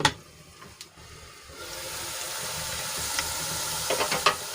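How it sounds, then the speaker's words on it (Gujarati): Onions cook covered in a pan, a faint bubbling sizzle rising after a quiet start and holding steady, with a couple of light clicks near the end. "ડુંગળીને આપણે ગુલાબી રંગની થાય ત્યાં સુધી ઢાંકીને ચડવા દઈશું"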